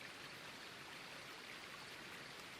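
A babbling creek in the Grand Canyon near the Colorado River, a soft, steady, distant rush of flowing water with no pauses.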